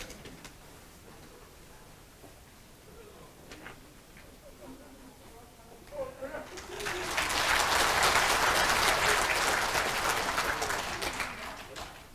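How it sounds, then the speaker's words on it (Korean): An audience in a National Assembly conference hall applauds during introductions at a veterans' rally, with quiet murmuring first and then a full, loud burst of clapping midway that holds for several seconds before tapering. "한 분 한 분 소개해드릴 때마다 여러분 큰 박수를 부탁을 드리겠습니다"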